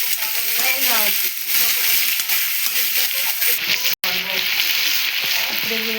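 Beans sizzling steadily in a hot pan for a coconut beans curry, a loud continuous hiss with occasional stirring scrapes and a brief cut partway through, with a voice speaking over it.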